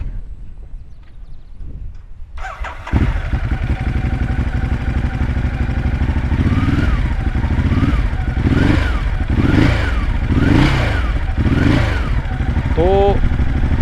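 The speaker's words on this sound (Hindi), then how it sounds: "यहाँ से मैं बाइक को आपको स्टार्ट करके दिखाता हूँ।" A motorcycle engine starts after a quiet moment, then idles loudly with a steady rumble, the revs rising and falling a few times.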